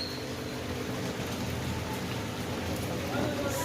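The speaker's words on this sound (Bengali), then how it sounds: "তা রোদ দূরও উঠেছে বৃষ্টিও হচ্ছে" Rain falling steadily outdoors in a sunny shower, a constant even hiss of drops with no breaks across the whole stretch.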